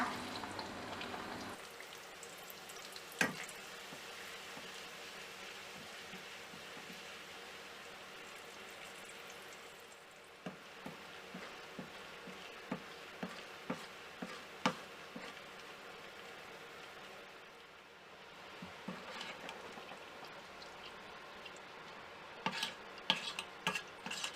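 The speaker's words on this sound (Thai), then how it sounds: "ต่อไปก็หอมแดงค่ะ เจียวเหมือนกันเลยนะคะ" Thinly sliced shallots sizzle in hot oil, a steady soft crackle with scattered pops and clicks throughout, fairly quiet and close with no talking.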